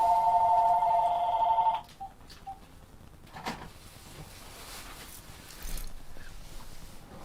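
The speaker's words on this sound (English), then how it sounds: "I get the same spam call every single day, and unfortunately, that's the master phone unit, so I can't turn the volume down on it." A landline master phone unit rings with an electronic trill for almost two seconds, loud and close, then cuts off, leaving faint room noise and a few small knocks.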